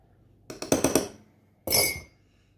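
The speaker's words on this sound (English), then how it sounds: "So I'll break up the eggs a little bit." Eggs are broken up and beaten in a bowl for chili and corn bread: a quick burst of sharp clinking strokes against the bowl, a short pause, then one longer stirring scrape, close and clear with no talking.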